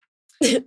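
A single short, sharp human sneeze, a quick intake followed by an abrupt burst, close and alone.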